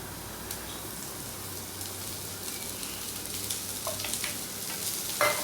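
Steady sizzling and crackling of chopped flat beans frying in a pan, with occasional stirring scrapes and a louder clatter near the end.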